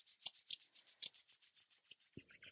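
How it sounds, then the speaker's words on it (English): Hands rub together during a morning yoga routine, a quiet, close, rhythmic swishing of skin repeated about ten times in quick strokes. "And rub your hands together."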